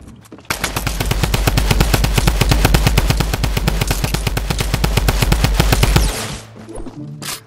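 Rapid automatic gunfire in the video game Fortnite, a loud sustained burst of evenly spaced shots lasting about six seconds, then fading, without speech.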